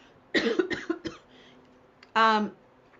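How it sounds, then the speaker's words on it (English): A burst of short close coughs comes first, followed after a pause by one harsher, longer cough. "excuse me, I got a cough"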